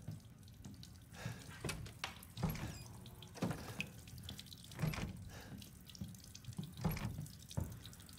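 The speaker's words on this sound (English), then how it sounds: "Looks like the water works here." A tap runs steadily in a Resident Evil Village game scene, water splashing into a basin with uneven gurgles and drips, fairly quiet and close, no voices.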